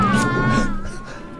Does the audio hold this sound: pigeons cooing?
no